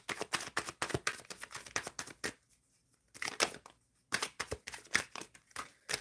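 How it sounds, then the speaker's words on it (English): Tarot cards are shuffled in close, quiet bursts of rapid riffling and slapping, with a short pause before the shuffling resumes; no one speaks. "Sagar, I'm shuffling for the overall energy"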